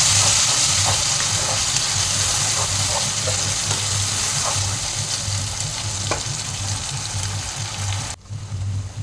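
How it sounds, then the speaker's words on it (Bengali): Spice paste of ground cashew, raisin, tomato and green chili sizzles steadily in a hot wok, a loud continuous frying crackle with faint stirring scrapes, easing briefly near the end. "কাজু, কিশমিশ, টমেটো, কাঁচা লঙ্কা, মশলাটা কড়াইয়ে দিয়ে দিলাম"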